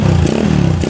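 A Yamaha Scorpio 225 cafe racer motorcycle engine turns over on the starter and catches, a loud, close, rough idle rumble lasting under a second.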